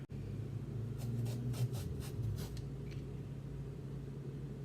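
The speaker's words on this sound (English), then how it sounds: "Take your peeler and you're going to cut about the size of a bacon strip." A vegetable peeler drawn along an eggplant to cut bacon-sized strips: a quick series of soft scraping strokes, close and faint, over low background hum.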